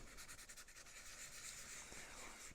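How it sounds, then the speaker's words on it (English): A part of a 1/6 scale Armortek SdKfz 7 halftrack model gets a light hand sanding along its edges. The faint, close, gritty rubbing strokes come in a quick, steady rhythm with no talking. "Just going to give that very light sanding on the edges."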